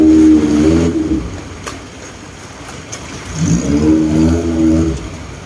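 Motorboats pass on the canal at Damnoen Saduak floating market, two rising and falling engine drones with a quiet gap between them, close and fairly loud.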